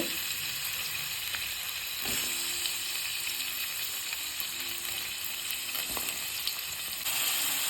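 Chopped onions fry in ghee and a little oil in a pan for a mushroom masala gravy, a steady close hissing sizzle broken by a few sharp scrape and tap sounds from stirring.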